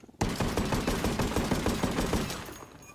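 A semi-auto sniper rifle in Ghost Recon: Wildlands fires in a fast, even string of about a dozen sharp, loud shots that blur into a rapid rattle, then tails off into fading echo with no talking.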